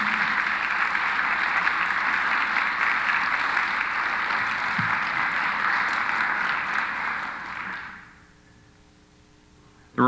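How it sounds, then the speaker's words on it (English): Applause from the audience at a family association reunion, sustained dense clapping for about eight seconds before it fades out into quiet. "Let's give him just a great round of applause."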